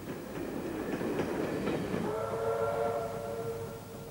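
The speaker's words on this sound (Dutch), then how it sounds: "komt de trein over de langste boogbrug van China" A train rolls across a long iron arch bridge over the Yellow River in China, giving a steady rumbling roar. A sustained horn or whistle tone rises over it partway through.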